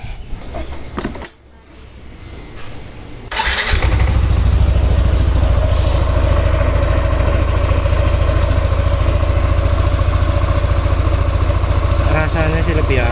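Motorcycle with a CVT is started after an oil change to 20W50: a brief whirring start, then a loud, close, steady idle that holds unchanged for about ten seconds, with a voice speaking briefly near the start.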